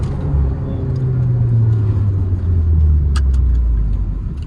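A Skoda Laura vRS with a 1.8 TSI engine idles at a held half-rev: a loud, close, continuous low drone whose pitch drifts slowly, with a few light clicks toward the end.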